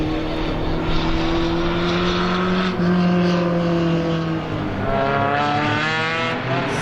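Brickyard Roadrunner race cars roaring at Star Speedway under green flag, with a loud, continuous engine drone whose pitch rises and falls as the cars pass.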